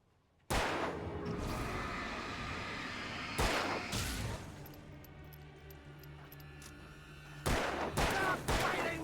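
Gunfire in the video game Alan Wake comes as loud dense bursts, a sustained volley of shots with sharp onsets at the start and again near the end, with faint clinking in between and no talk.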